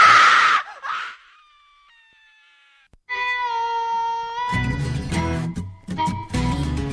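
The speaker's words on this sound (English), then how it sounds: "I love that scream." A shrill, wailing scream broadcast on a Halloween-night radio show, loud and sustained, followed by bursts of eerie music-like tones and busy sound.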